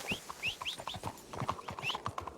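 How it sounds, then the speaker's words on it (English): Horse hooves clip-clop quietly in a roleplay video game, a quick, uneven series of light knocks at a walking pace, heard fairly faint over a soft background hiss. "That's my horse, sir."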